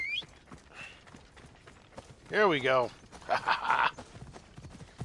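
Horse hooves clip-clop in a steady run of soft thuds in the game Assassin's Creed Odyssey, running beneath a man's brief speech and a few louder game sounds.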